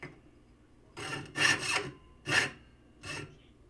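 Hand saw cutting through wood, four separate rasping strokes, the third and fourth longer and louder, close up with brief pauses between them.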